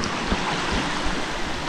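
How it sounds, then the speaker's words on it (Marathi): A forest stream flows loudly at night during rain, a dense steady rush of water with no other clear sounds. "वाळीच्या पाण्याचा आवाज तर मोठा येतोय"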